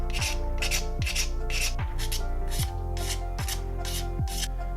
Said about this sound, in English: No doubt probably a whole bunch of filing and sanding to get them to fit.